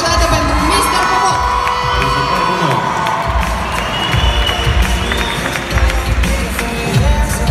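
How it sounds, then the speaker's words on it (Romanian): A crowd at a school freshman ball cheers, whoops and applauds, with children and teens shouting over loud, continuous noise that stays energetic throughout. "Aplauze încă o dată pentru Mr. Bobo!"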